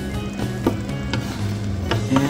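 Hedgehog mushrooms (Hydnum repandum) fry over low heat in a pan, giving a steady soft sizzle broken by a few light scrapes and clicks of stirring, close and fairly quiet with no one talking.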